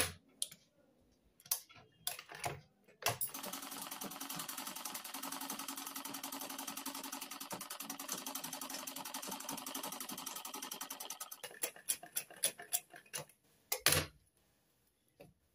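Sewing machine running a test seam, a fast even stitching rattle for about eight seconds, framed by scattered clicks and handling taps before and after.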